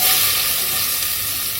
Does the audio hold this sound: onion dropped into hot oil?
yes